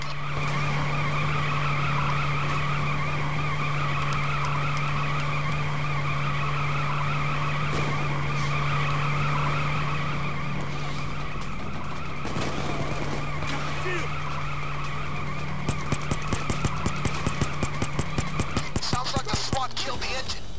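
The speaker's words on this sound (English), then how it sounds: "The pickup is pulling strong." A pickup truck in the video game Hotline Miami drives with a steady engine drone and sustained tire skidding. Toward the end it breaks into rapid rattling bursts, loud and continuous throughout.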